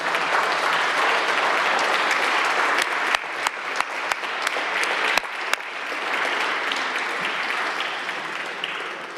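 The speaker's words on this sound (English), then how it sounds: "Let's give them a round of applause as they come up" Sustained crowd applause at a city council meeting greeting a championship youth sports team, the Garden Valley Falcons, with a few sharp louder claps popping out from the steady roar.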